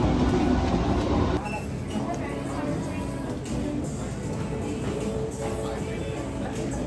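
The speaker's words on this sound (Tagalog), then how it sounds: "So this is my first time in 2 years to ride again in train." Steady rumble of a passenger train ride with rolling clatter and hiss inside the car, a brief louder stretch at the start, then continuous even motion noise with faint chatter in the background.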